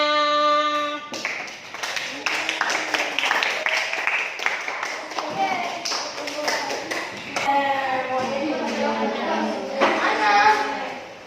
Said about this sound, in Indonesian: Oke, kasih aplaus untuk semuanya.